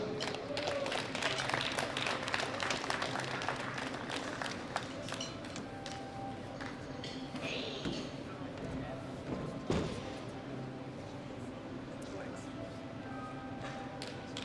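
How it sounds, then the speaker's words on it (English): Scattered clapping from an audience at a World Classic Powerlifting Championships awards ceremony rises in a quiet, distant hall, strongest early and thinning out, with an announcer talking over it. "Give them another round of applause to the best three sub-juniors up to 105 kilograms squat."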